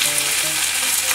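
Napa cabbage stir-fries in oil in a frying pan, giving a steady, close, crackling sizzle.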